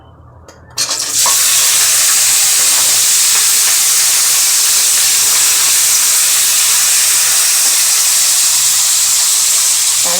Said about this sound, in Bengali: এখন আগে আলুটা ভেজে নেব।